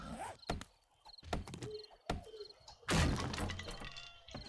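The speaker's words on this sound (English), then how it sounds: "More broken glass." Glass shatters in the video game 7 Days to Die, several sharp, bright crashes and clinks scattered in bursts, with one louder, longer smash near the end amid thumps.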